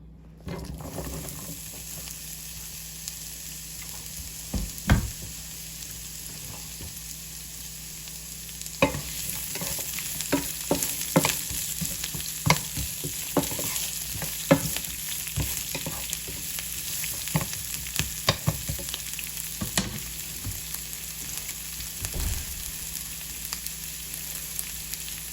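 Coconut shrimp soup ingredients fry and sizzle steadily in hot oil in a pan, with scattered clinks and scrapes of stirring throughout and no voices.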